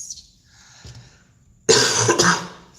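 One person gives a short throat-clearing sound and then a louder burst of coughing. The cough is close and harsh, and there is no speech.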